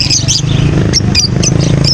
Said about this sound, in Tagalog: Eto, nandito pa rin yung mga ibon, no?